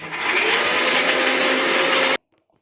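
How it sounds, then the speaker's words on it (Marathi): A mixer grinder whirs loudly and steadily while grinding a coriander spice paste, then cuts off abruptly into near silence. "मिक्सरला छान प्रकारे वाटून घेतलं हे वाटण"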